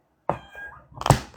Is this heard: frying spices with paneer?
no